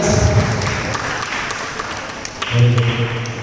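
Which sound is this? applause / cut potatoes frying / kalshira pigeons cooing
applause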